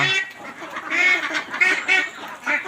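A flock of domestic ducks, raised livestock rescued after being swept away by a flood, quacks loudly and continuously, many calls overlapping in close, busy bursts.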